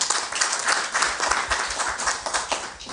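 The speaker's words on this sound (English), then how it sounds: "Let's applaud Dr. Penina one more time." Conference audience applauding a presenter at a hybrid mental health conference, steady dense clapping filling the whole stretch at moderate level with no voices over it.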